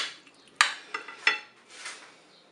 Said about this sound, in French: Là je vais mélanger tout ça avec mes courgettes et mes pommes de terre